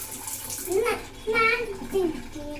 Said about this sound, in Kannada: ಈಗ ಸಿಂಕ್ ಕ್ಲೀನ್ ಮಾಡಿ ಇಲ್ಲೆಲ್ಲ ಒರೆಸ್ಕೊಂತೀನಿ.